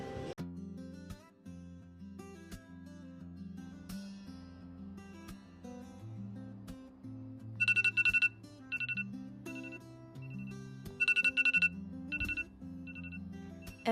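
A phone alarm ringtone plays a bright electronic melody over a low, steady sustained backing, with sharp repeated chiming bursts near the end; no voices.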